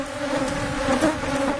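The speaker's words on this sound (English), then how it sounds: "Take a look at the number of bees flying." Honey bees fly around an open hive during an inspection, a loud, dense and steady buzzing drone from many insects close by, with no voices.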